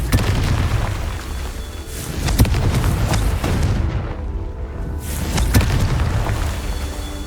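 Confringo blasting spell explosions in Hogwarts Legacy gameplay, a string of heavy booms and sharp blasts over a dense rumbling battle bed, with a brief lull midway before the impacts return.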